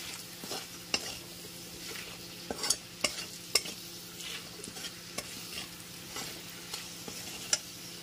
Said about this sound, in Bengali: লঙ্কার গুঁড়ো আর হলুদের গুঁড়োটা খুব ভালো মতো একবার আলুর সাথে মিশিয়ে নিচ্ছি